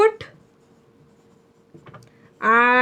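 A pen writes an accounting entry by hand during a commerce lesson on GST, giving a brief, soft scratching in a quiet stretch before a voice starts speaking loudly at the end.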